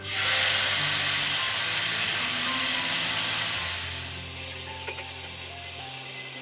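Flat beans hit a hot pan and sizzle with a loud, steady hiss and steam that stays strong throughout and eases slightly toward the end, with no talking.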